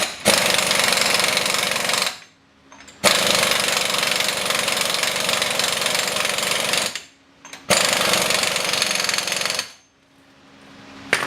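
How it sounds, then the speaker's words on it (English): A loud pneumatic impact wrench tightens a bolt through the brake caliper area of a Chevy Silverado 1500 during CV shaft work, hammering in three long sustained bursts with short pauses between them. "So now you want to tighten this bolt down."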